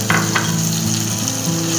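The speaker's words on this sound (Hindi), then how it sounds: "हम मसाले को भूनेंगे अच्छा सा" Masala of ground green chilli and garlic frying and sizzling steadily in a pan while cooking jackfruit sabzi, a continuous close crackling hiss with no talking.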